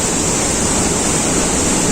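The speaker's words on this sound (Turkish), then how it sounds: "Şelalenin gürül gürül akıyor." Samandere Waterfall in Düzce roaring with a dense, unbroken wash of falling water, loud and close, steady from start to finish with no voices.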